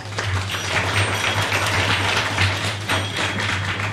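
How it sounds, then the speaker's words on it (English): A quiz audience gives a round of applause at a science quiz, a sustained crowd of clapping hands rising and dipping slightly over a steady low hum. "Give all of us a big round of applause."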